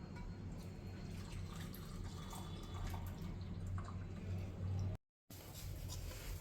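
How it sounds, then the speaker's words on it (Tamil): Jaggery dissolved in water being strained through a filter to remove grit, for a sweet coconut filling: a steady, close pouring and trickling of liquid that cuts out briefly near the end, then resumes. "நான் இங்கே வெல்லம் தண்ணியில் கரைச்சி வச்சுருக்கேன். அதை வடிகட்டின்றேன் தூசி குப்பை இல்லாதக்கு."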